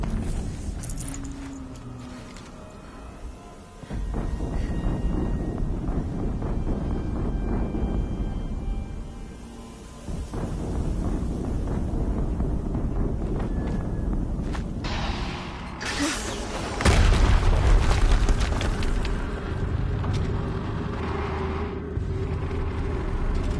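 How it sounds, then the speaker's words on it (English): Explosions and heavy mechanical rumble in Horizon Zero Dawn play out as a dense, loud roar with a sharp burst about two-thirds of the way through, set against steady clattering game noise. "Another explosion."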